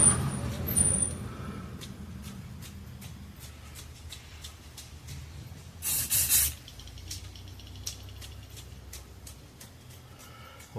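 A short hiss of spray paint bursts out midway, about half a second long, over a quiet background hum with faint clicks.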